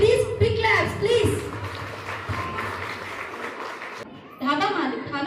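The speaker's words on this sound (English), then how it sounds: "Please give them a round of applause." An audience at a school annual day applauds. Voices talk over the claps at the start, the clapping carries on more thinly, then it stops briefly before louder talk and clapping return.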